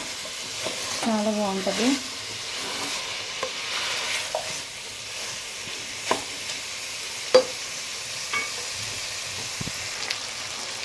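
Gongura chicken curry frying and being stirred in hot oil, a steady sizzle broken by occasional scraping clinks of the spoon against the pan, with a brief voice speaking near the start.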